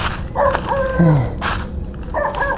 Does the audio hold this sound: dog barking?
yes